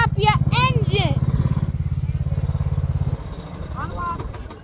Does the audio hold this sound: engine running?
yes